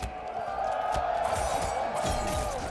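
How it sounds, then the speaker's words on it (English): An Evo 2024 crowd at a Mortal Kombat 1 losers quarterfinal between Nicolas and Dyloch roars and cheers steadily, a dense sustained wall of voices filling the arena with occasional sharper shouts. "Now crowd, if you want Dyloch to take this, you gotta make some noise!"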